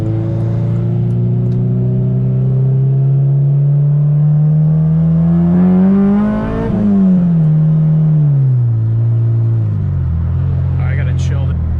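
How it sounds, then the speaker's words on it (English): Loud Honda Civic Si engine pulling hard through fourth gear on a residential street, revs climbing steadily to a peak and then dropping away as the throttle lifts, with a rising whine over a deep exhaust drone. "I know my car's loud"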